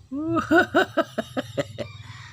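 A chicken clucks in a quick run of sharp notes that start drawn-out and become shorter and faster, close by and fairly quiet.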